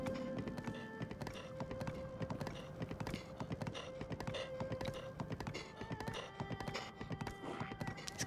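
Hooves of a horse ridden in Zelda: Breath of the Wild clip-clop in a fast, steady rhythm throughout, quiet and continuous under game ambience.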